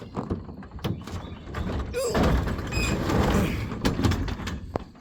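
A sliding door is shoved open, a rumbling scrape with rattles and thunks lasting a few seconds, close and fairly loud.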